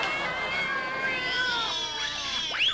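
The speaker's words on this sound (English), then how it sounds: "we live in a neighborhood filled with underprivileged cats" A neighborhood cat lets out a drawn-out, wavering meow that bends in pitch, then rises into a sharper yowl at the end, heard up close with no talking.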